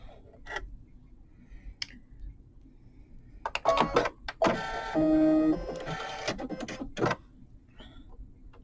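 Sewing machine automatic needle threader working, a close run of mechanical clicks, whirs and ticks lasting a few seconds, framed by scattered softer handling taps.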